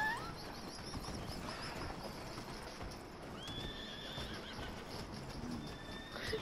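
A horse whinnies in a video game over a busy background of clip-clopping hooves and chirping birds, fairly faint and continuous, with no talking.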